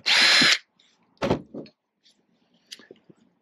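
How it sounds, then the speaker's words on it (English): A short, loud burst of a power drill boring through a metal pipe jig, followed by a clunk and a few faint knocks and rattles. "I'll go ahead and drill where I have a mark."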